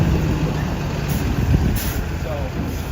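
A truck with air brakes on an Upper West Side street in New York City, its engine rumbling steadily while a couple of sharp air hisses burst out over constant traffic noise.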